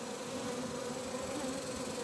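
Honey bees buzz steadily in a hive taken over from a swarm trap, a dense, continuous droning hum that stays close and even throughout.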